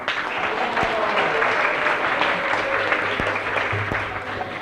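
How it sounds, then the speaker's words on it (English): A temple audience at ISKCON Dallas gives a children's class a long round of applause, a thick, continuous wall of clapping with faint voices mixed in underneath. "Let's give them another big round of applause."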